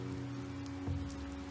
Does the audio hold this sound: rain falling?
yes